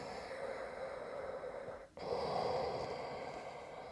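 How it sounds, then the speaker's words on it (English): Slow, deep ujjayi breaths during Ashtanga yoga practice, a long hissing throaty inhale that breaks briefly and then continues into a fuller breath, steady and close, with no talking. "Ujjayi, are you breathing deeply"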